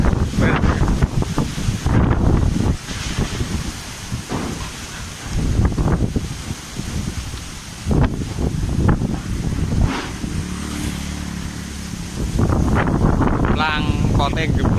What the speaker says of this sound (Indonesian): angin dahsyat